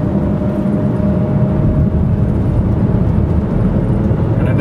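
A Toyota RAV4 EV's Tesla electric motor gives off a thin, constant whine over a dense, loud bed of road rumble while driving under power, steady throughout without pauses.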